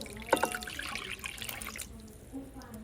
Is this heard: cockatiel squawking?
no